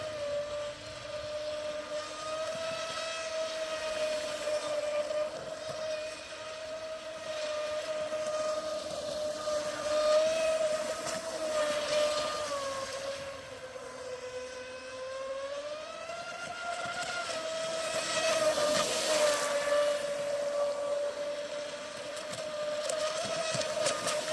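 A Recoil 2 RC boat fitted with a new Flycolor Kraken 120 ESC and rudder runs on the water, its electric motor holding a steady high whine that rises and dips as it turns, heard continuously at moderate distance.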